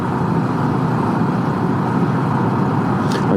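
A Honda Super Cub with a Kitaco 15T sprocket cruises in fourth gear at around 35 mph, its engine a constant loud drone blended with heavy wind rush.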